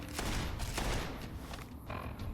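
Video game gunfire in Fallout: New Vegas crackles in a dense, close burst of rapid shots that tapers off over a couple of seconds.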